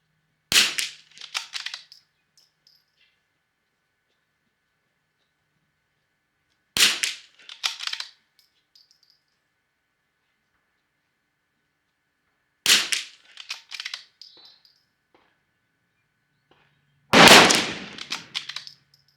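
Four sharp rifle reports fired with SK Long Range ammunition, each a loud crack followed by a brief echo or ring, spaced several seconds apart, with the last shot heavier and fuller.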